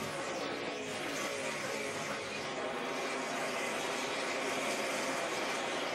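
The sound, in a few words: NASCAR stock cars racing at Pocono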